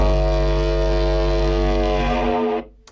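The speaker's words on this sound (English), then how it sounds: "which is like some crazy kind of like war horny, dubsteppy, gritty kind of thing" A gritty war horn sample used in a dubstep beat, a loud sustained buzzing blare with dense harmonics that holds steady for over two seconds before cutting off abruptly, alone with no talk.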